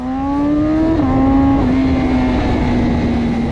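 A 2010 BMW S1000RR superbike with its 999 cc inline-four engine revs loudly and close, pitch climbing and then stepping down through several steady, high, whining holds.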